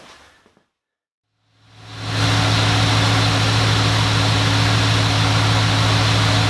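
A 1950 Chevy Coupe engine runs steadily, loud and close. Its idle is a constant low rumble and hum that swells in after a brief silence and then holds even.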